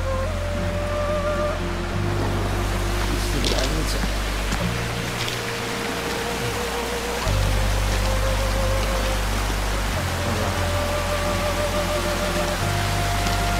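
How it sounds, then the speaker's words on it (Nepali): A clear mountain stream flows in a steady, unbroken rush of water nearby, with a low hum running underneath. "पानी बगेछ सरर कति सफा पानी क्या पहाडबाट"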